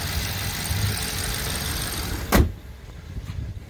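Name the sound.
car engine idling under the hood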